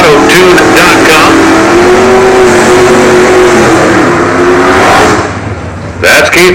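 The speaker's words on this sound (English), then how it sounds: "First pair pulling up into the water box, and it's going to be one of those new look drag pack Dodge Hemi cars, the Mega Maniac." Dodge Hemi drag pack car at a stock eliminator drag race, a loud close engine revving with a rising whine as it pulls into the water box, then easing off, with an announcer talking over it.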